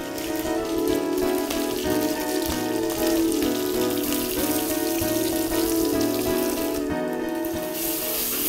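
Crushed onion, ginger, garlic and cumin sizzle in a pan with curry leaves and green chilli, a steady, close frying hiss with soft crackles running throughout, no talking.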